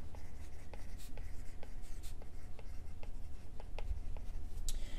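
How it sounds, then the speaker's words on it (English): Chalk or marker scratching across a board during a pharmacology class, a series of short, light strokes in an irregular rhythm over a low steady room hum, close and moderately quiet with no talk. "So let me just write pharmacodynamics."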